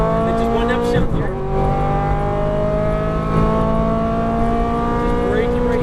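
An exotic car accelerating at full power on a Las Vegas race track, a loud continuous engine roar rising in pitch with a brief shift dip, heard from inside the car under a voice.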